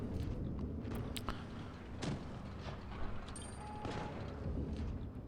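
Cannon fire from a Vickers Medium Mk 1 British tier 1 medium tank in World of Tanks Blitz, a few sharp booming shots with engine rumble and battle noise in the background.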